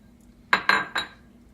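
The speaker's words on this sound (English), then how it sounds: "After you do that, you want to put your 2 cups of sugar into the pot." Sugar is added to a pot on the stove while making no-bake cookies, with three quick, bright metallic clinks close together, like a utensil tapping the pot rim, against a quiet background.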